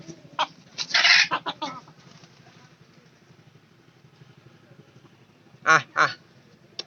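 A broody hen gives short bursts of clucking: a cluster of sharp clucks early on, then a quiet lull with faint background murmur, then two more loud clucks near the end, all close by.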